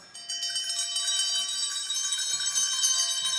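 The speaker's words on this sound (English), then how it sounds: "and so did every bell in the house." Many bells ring together throughout a house, a sustained shimmering chorus of overlapping tones held steadily for the whole stretch with no talk.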